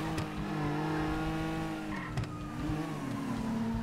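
Rally car in GTA 5 racing over dirt, engine revving loudly with shifting pitch and tires scrabbling and skidding, a steady close roar throughout.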